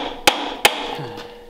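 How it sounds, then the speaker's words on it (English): A hammer strikes the corner of an iron cylinder head on a flathead engine for a 1939 Mercury coupe, two sharp close metallic knocks with a short ringing decay after each. "I like to just tap on the corners with a hammer"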